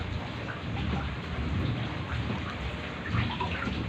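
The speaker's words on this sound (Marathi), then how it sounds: "11 तारखेपासून पाऊस चालू आहे, तर आज 15 तारीख आली. थांबायचं नावच घेईना पाऊस." Heavy rain pours steadily during flooding, with low thunder rumbling throughout; a dense, loud wash of rain on surfaces with no voices present.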